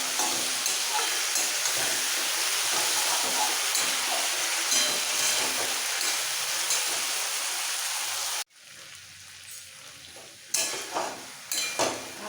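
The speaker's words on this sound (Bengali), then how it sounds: "হাফ চামচ জিরে বাটা কষিয়ে নিতে হবে ভালো" Cumin paste sautéing in a pan for rohu fish curry with drumsticks hisses loudly and steadily for several seconds, then cuts out abruptly, followed by quieter sizzling and a couple of renewed bursts.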